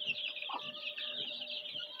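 Hens on a small egg farm cluck continuously, with soft overlapping clucks and murmurs from several birds close by, and no talk.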